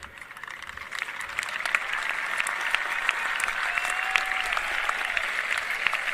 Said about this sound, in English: Thank you for giving them a round of applause.